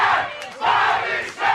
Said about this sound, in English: Oh my God, they're chanting Pat louder than they were chanting Bobby Shaft